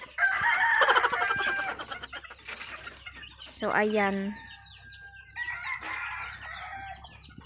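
Hens cluck and a rooster crows once close by, with a person talking briefly over the start of the birds.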